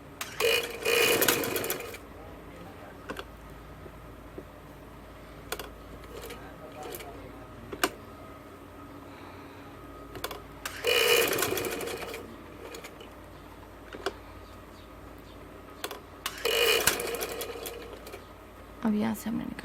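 A sewing machine stitching a kurta runs in three short loud bursts spread across the stretch, with quieter handling noises and a person talking in between.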